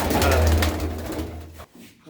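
Pigeons kept inside a netted room give low, throaty cooing that is loud and close for most of the stretch, then drops off near the end over a steady background.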